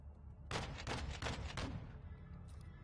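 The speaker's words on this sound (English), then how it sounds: "Seeing small arms fire from the gas station." Small arms gunfire in the video game Modern Warfare 2, a loud burst of rapid overlapping shots lasting about a second, then a brief faint echo of distant fire.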